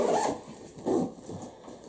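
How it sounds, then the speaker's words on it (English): A zipper on a Nomatic backpack is drawn along its track in two quick close pulls, a raspy burst followed by a second shorter run, with nothing else heard. "The zippers roll smoothly, even around the curved corners."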